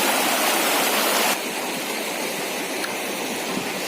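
A river flowing in hilly country makes a loud, steady rush of water throughout, dropping slightly in level partway through, with no voices.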